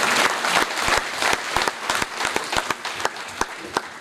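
Audience at a students' felicitation program in Aurangabad bursts into strong applause, dense clapping with distinct loud claps popping out, holding steady and easing slightly toward the end.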